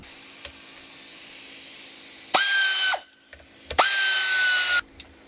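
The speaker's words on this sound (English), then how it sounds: "I'm going to go ahead and get this thing bolted down here with these two bolts" A power tool drives bolts down on an intake manifold of an Isuzu engine during an EFI-to-carburetor swap: two loud, close bursts of whirring, each about a second long, with a short pause between them.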